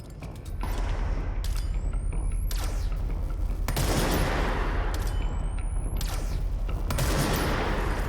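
Sustained gunfire from snipers and other weapons in the video game Control, with loud cracking volleys, mechanical rattles and booming impacts layered over a constant rumbling backdrop, no talking.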